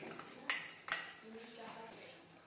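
A spoon knocks twice against a bowl while flour and rice flour are measured out, giving two bright close clinks about half a second apart, followed by quiet room tone.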